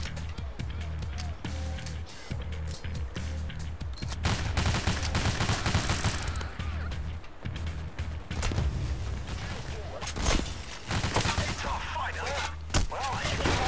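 Repeated shotgun fire and rapid gunfire in the Payday The Heist video game, dense bursts and bangs throughout, with players talking over the chaotic firefight.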